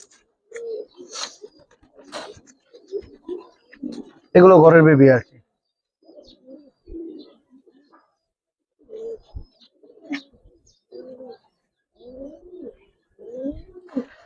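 Giribaz and coloured pigeons coo softly in short bursts between stretches of talking, with one loud harsh burst of noise partway through.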